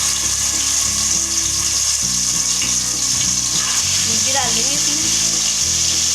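Marinated yogurt chicken sizzles loudly and steadily as it fries in about three spoons of oil, with brief scraping and stirring clicks, while a voice speaks briefly over the frying.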